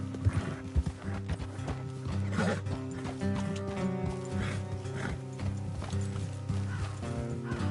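Horses in the Red Dead Redemption 2 video game, hooves clip-clopping steadily with a couple of whinnies, set against a continuous bed of game music.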